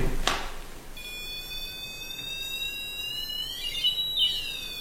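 A ghost-hunting pod sensor goes off in an abandoned house: after a brief knock, a steady high electronic tone sounds and turns warbling and wavering toward the end.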